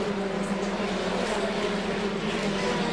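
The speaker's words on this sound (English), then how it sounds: "There you see the Renda car, car number 3 with the 72 car of Tim Richardson." Race cars at a Hooters Formula Cup event on Desoto Super Speedway, a continuous loud engine roar from the pack lapping the track, steady and unbroken with no clear single pass.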